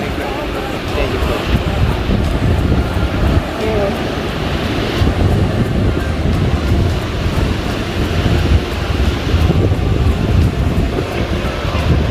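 Steady roar of ocean surf washing onto Scheveningen beach in the Netherlands, loud and continuous with wind buffeting the microphone throughout.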